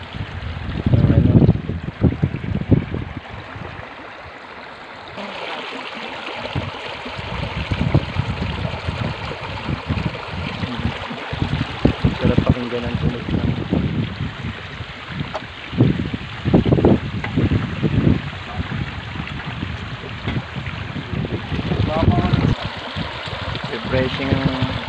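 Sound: river water flowing

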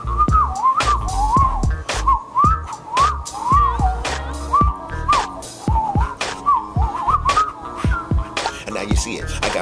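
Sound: whistling a rap tune

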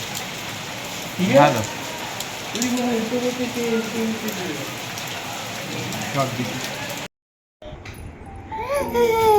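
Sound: heavy rain outside

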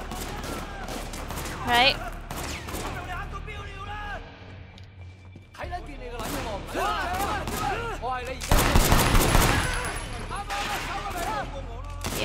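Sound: gunfire in video game Sleeping Dogs

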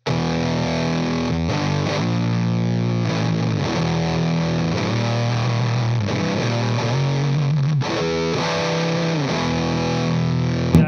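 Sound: electric guitar played through a fuzz pedal into an amp head

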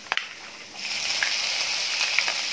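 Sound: chopped green chillies sizzling as they are sautéed in a pan

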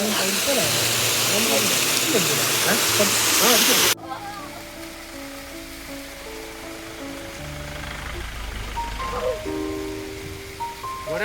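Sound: small waterfall flowing

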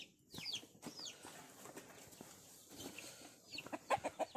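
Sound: chickens clucking

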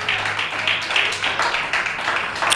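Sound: congregation clapping hands in church service

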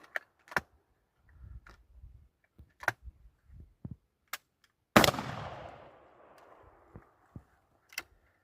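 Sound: shotgun firing old 32 gram number 5 shells

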